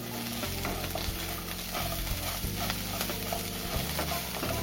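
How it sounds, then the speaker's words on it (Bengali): Crab pieces and eggplant fry in a pan in a village kitchen, a constant close sizzle with scraping stirs throughout and no talking. "কত সুন্দর লাল লাল করে ভাজা হয়ে যাচ্ছে"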